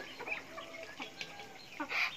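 A battered rooster just after a cockfight, clucking in short close bursts with a louder squawk near the end, set against quiet farmyard background.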